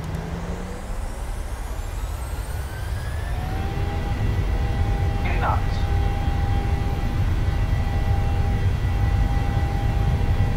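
Qantas airliner engines spooling up for the takeoff roll on runway 07 left, a low rumble that swells after a few seconds and then holds loud and steady, with a rising whine and brief cockpit chatter.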